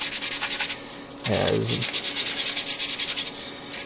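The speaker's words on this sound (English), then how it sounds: "making sure that you're not sanding off anything that you shouldn't be sanding" Sandpaper rubbing across a model aircraft panel in close, rapid back-and-forth strokes, a rhythmic scratchy rasp with a brief spoken word partway through.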